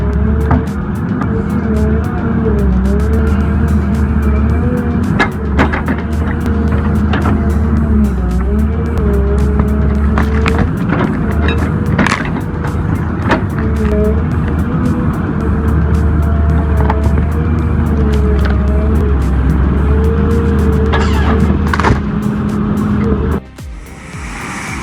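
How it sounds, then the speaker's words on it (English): A TT4 tracked forestry vehicle hauls heavy logs through deep mud on a forest road, its engine a loud, steady, close drone that holds without a break and cuts off abruptly just before the end. "The TT4 dominates forest roads, effortlessly hauling heavy logs through deep mud."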